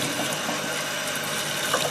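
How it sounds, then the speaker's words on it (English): A kitchen sink tap runs hard, giving a continuous, close rushing splash of water that stays even and loud throughout. "turn on the tap"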